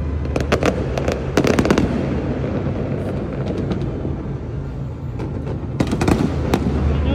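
New Year fireworks in Manila burst with repeated loud cracks and pops, clustered at the start and end, over a continuous rumbling background.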